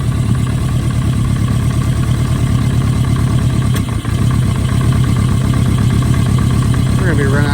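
A 1973 Honda 350 Four motorcycle engine idles close by with a steady, throbbing mechanical rumble, and a voice speaks briefly near the end.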